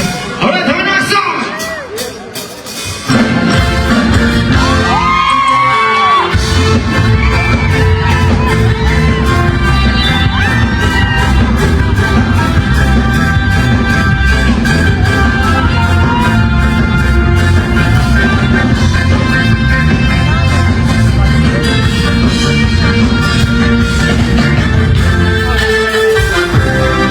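A concert crowd at a tribute band's international tour show in Toro cheers and shouts continuously, loud and sustained over amplified music, after a quieter moment at the start.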